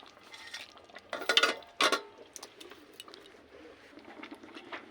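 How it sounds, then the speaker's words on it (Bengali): Chicken manchurian being stirred and mixed in a pan: a spoon scrapes and clinks against the metal in a few brisk bursts, with soft patter and sizzle between strokes, fairly quiet and close. "এই যে দেখুন ভালো করে নাড়াচাড়া দিয়ে সবগুলি মিশিয়ে নিলাম"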